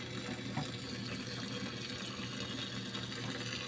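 Tap water runs steadily into a sink while dishes are washed, a constant close-up rushing stream with faint clinks and no speech.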